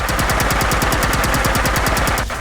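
An X12 Plasmacaster firing on full auto in the game Fallout 4, an evenly spaced, rapid stream of loud buzzing energy shots that stops abruptly at the end.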